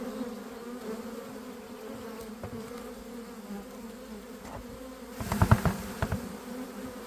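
Honey bees buzz steadily around the frames of a mini mating nuc, a close, continuous drone that swells louder with sharp bursts near the end.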